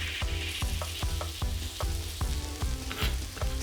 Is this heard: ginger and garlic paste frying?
yes